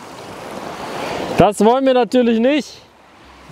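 Incoming tide washing up on a Lofoten beach, a steady broadband rush of surf running through the clip, loudest at the start, with someone talking over the middle portion.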